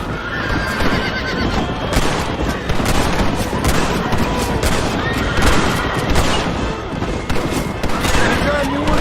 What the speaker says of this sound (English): You're shooting right at me.